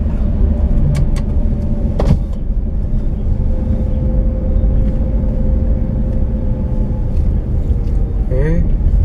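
A manual-transmission car's engine drones steadily as it climbs an incline in slow traffic, close and continuous, with a brief knock and a short squeak near the end.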